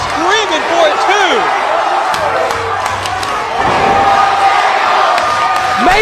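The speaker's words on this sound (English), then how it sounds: "This crowd is screaming for it too!" Wrestling crowd at a 2006 TNA Campus Invasion event roaring and screaming in a sustained loud wall of noise, with excited voices rising and whoops rising above the din.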